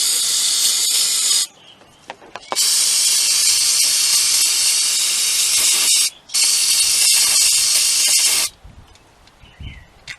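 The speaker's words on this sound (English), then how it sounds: "Now we take our carburetor cleaner again." Carburetor cleaner sprays from an aerosol can onto a car's throttle body, two long loud hissing bursts separated by short pauses with faint clicks and handling noise, then a last quieter stretch.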